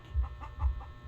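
Chicken clucking in a few short rhythmic bursts, fairly close, with a low muffled rumble underneath and no talk.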